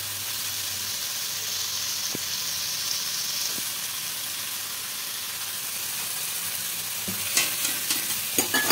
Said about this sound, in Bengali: এবার সয়াবিনটাও দিয়ে দেবো, দিয়ে খুব ভালো করে মিশিয়ে নেব।